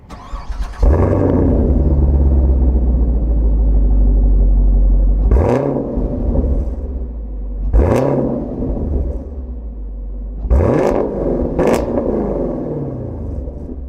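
A 2020 Chevrolet Camaro SS's 6.2-liter, 400-horsepower V8 cranks and fires up with a loud roar, then settles into a deep, rumbling idle with several sharp revs blipping through.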